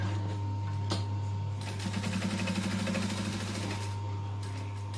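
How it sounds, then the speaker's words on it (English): A sewing machine back stitches over top stitching on a bag, a steady motorized whir with a low mains hum beneath it, the needle's rapid rhythmic chatter rising in the middle and easing near the end. "So I'm going to back stitch my top stitching just to make sure that it locks in."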